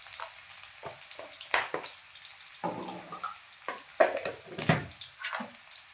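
Sliced onions frying in a pan with curry leaves and ginger garlic paste, a soft sizzle broken by sharp scraping stirs and clinks of a spoon against the pan, fairly close.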